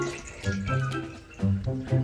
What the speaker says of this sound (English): So I'm just going to pour my bleach into each container.